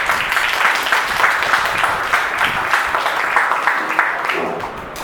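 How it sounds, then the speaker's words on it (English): Applause for students at a school English Week celebration: a crowd claps steadily and fairly loudly for about four seconds, then tapers off near the end. "So first clap for the students from 6th to 8th class."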